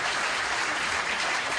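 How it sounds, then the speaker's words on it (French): Sustained applause at an honorary doctorate ceremony, a steady wash of clapping from a large audience, even in loudness throughout. "Accompagné des salves d'applaudissements"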